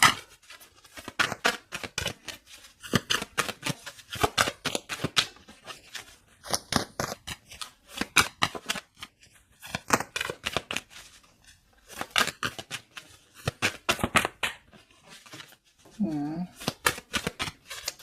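A tarot deck is shuffled by hand in repeated bursts of crisp riffling and flicking, close and clear, separated by short pauses, with a person speaking softly at times.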